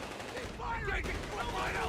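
Bursts of MG34 machine-gun fire in the real-time strategy game Company of Heroes 3, rattling amid battle noise with a commentator talking over it.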